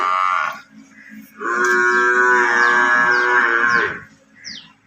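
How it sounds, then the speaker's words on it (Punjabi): Buffalo at a dairy farm give a loud, close low: a short call, then a long sustained bellow of several seconds, and a brief faint sound at the end, with no talking. "ਚੌਥੇ ਨੰਬਰ ਤੇ ਮੱਝ ਆ ਗਈ"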